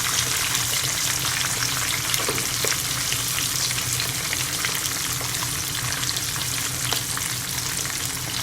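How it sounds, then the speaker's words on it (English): Crispy jerk-seasoned fish frying in hot oil, a steady, dense sizzle and crackle with small pops, close and continuous throughout without any talking. "So my fish has nicely fried."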